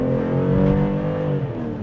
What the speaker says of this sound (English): Here, shifts are aggressive, okay?